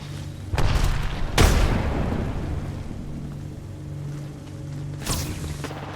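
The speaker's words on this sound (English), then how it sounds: "Grenade." A grenade explodes in the Apex Legends video game with a loud boom, and a second blast follows near the end. Both ring out over a steady low hum from the game.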